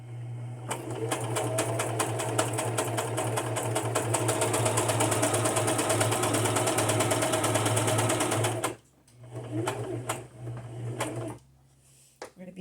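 Sewing machine with red thread stitching Christmas-themed junk journal cards, one long steady run of fast rhythmic stitching for about eight seconds, then a brief slower burst before stopping.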